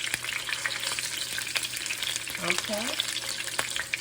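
Turkey wings sear and sizzle in a hot pan, a steady crackling fry broken by a few scraping stirs and light clicks, with a brief spoken word at the start.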